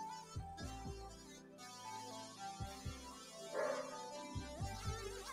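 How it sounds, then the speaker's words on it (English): A dog barks in short bursts, a few sharp woofs scattered across a quiet background, some in quick pairs. "Sorry for my dog barking."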